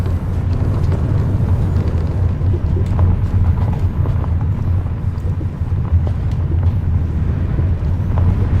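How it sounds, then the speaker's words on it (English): A truck engine in Euro Truck Simulator 2 drones low and steady while driving, a dull continuous rumble with no talking. "Hopefully now the truck is not too loud."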